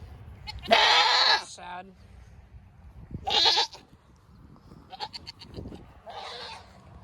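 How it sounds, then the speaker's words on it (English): Goats bleat on a goat farm, a loud drawn-out call followed by shorter bleats spaced across several seconds, with a brief spoken remark and farm background in between. "There's the goat just making noise because I think one of its babies is down there in that cage"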